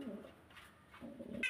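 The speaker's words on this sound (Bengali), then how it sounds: "বিশাল সাইজের এক জোড়া কবুতর।" Pigeons on a pigeon farm cooing, two short low coos close by with faint background noise, no talk.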